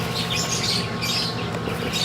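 Pet birds chirping and tweeting at close range, a busy, continuous run of small high calls over a steady background hum.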